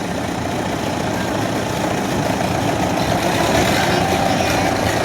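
A Minneapolis Moline R farm tractor, a 1954-era machine with a 158 cubic inch engine, runs steadily at an autumn harvest parade, a loud, continuous low engine rumble with no break.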